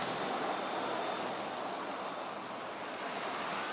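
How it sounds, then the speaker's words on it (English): Pouring rain falling during the Queen's coffin procession to Buckingham Palace in London, a steady, even hiss that fills the whole stretch without a break and with no voices. "In the pouring rain for the Queen."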